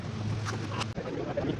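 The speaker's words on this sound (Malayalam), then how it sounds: "ബോട്ട് ജെട്ടിയിൽ നിന്ന് സ്റ്റാർട്ട് ചെയ്യുന്നതും" A large tourist boat pulls away from a jetty at Kollam on Ashtamudi Lake, a low steady engine drone mixed with wind rush and water noise, heard briefly and close.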